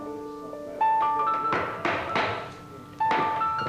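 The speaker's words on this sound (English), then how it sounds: "Noah Turner's mallet bangs to the beat of an old familiar tune" A wooden mallet striking a chisel as a sculptor carves a statue, a few sharp, loud knocks ringing over a background of music-like tones.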